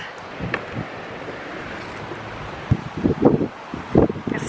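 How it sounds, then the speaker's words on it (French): Wind buffets the microphone outdoors in a steady low roar, rising into stronger gusts toward the end, with no voices. "Merci le vent"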